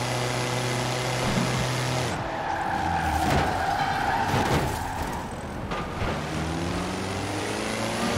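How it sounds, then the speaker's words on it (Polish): Tires squeal and skid as an electric car drifts in the Forza Horizon 4 racing game, a sustained screech over a steady engine whine, rising and shifting for several seconds with no one talking. "Spróbujmy zadriftować."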